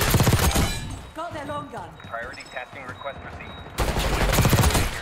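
AS VAL rifle firing in Black Ops 6, with loud rapid bursts at the start and end separated by a quieter middle where a person speaks.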